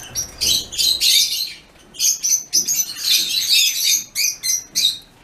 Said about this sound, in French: Oh, mes oiseaux.